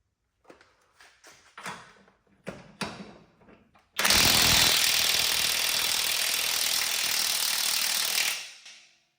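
A Milwaukee impact wrench works shock bolts on a lowered 1990 Chevy Suburban during a Belltech Nitro Drop 2 shock install. A few scattered knocks and clanks come first, then a loud, sustained rattling hammer burst of about four seconds cuts off abruptly.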